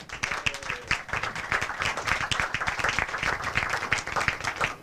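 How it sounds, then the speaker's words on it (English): Audience applause at a conference session, steady clapping from many hands at moderate level lasting several seconds, with no one speaking over it. "Please put your hands together for Desmond."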